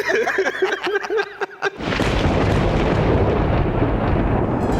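A rifle shot on a moose hunt lands as one sudden loud blast that rolls into a long, broad rumble after a short stretch of quiet voices and chuckling.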